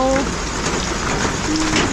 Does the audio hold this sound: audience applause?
no